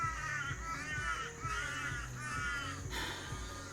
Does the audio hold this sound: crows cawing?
yes